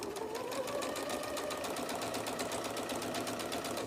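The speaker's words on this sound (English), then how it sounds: "I'm going to stitch across there" Sewing machine stitching a quilt label, a fast, steady, rhythmic needle chatter running continuously at moderate level close by.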